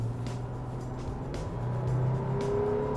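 A Toyota FJ Cruiser 4x4 engine revs steadily under acceleration with a low, continuous drone that swells slightly toward the end, heard from inside or near the vehicle with no talking.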